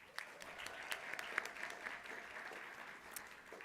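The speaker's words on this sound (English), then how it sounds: "Please give yourselves a round of applause." A round of applause at a UNLV awards ceremony and graduation for African heritage graduates, heard as faint, distant clapping from a large room, steady throughout with a few sharper claps.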